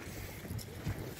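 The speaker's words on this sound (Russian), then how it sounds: "У нас постоянно здесь ветрище." Strong wind gusts outdoors, roaring and buffeting the microphone in a broad rushing wash with two heavier low thumps, no voices.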